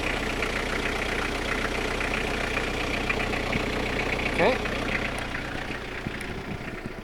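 A 1989 Toyota Town Ace 4WD pop-top camper's diesel engine idles steadily with a low, even rumble, running continuously beneath a brief spoken word.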